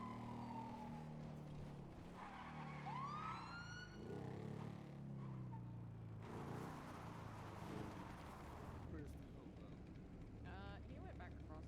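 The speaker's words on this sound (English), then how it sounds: "he was hearing my sirens and freaking out" A police car siren wails and yelps in rising and falling sweeps at a bail enforcement scene, moderately close, with people talking and street noise underneath.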